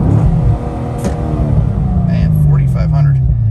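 Sports car held on launch control with the pedal floored, engine revving hard and steady near the mic, its loud drone filling the clip while a voice talks over it.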